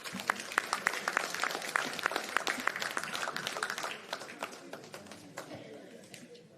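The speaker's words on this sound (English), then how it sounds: "I'd like to get a round of applause" Audience applause at a candidates' meeting for local elections, a dense wash of clapping that holds steady, then thins and tapers over the final seconds, with some voices mixed in.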